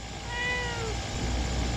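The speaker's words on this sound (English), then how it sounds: "That was some pretty big meows." A cat gives a loud, drawn-out meow outdoors, a single wavering cry that fades out over a low background rumble.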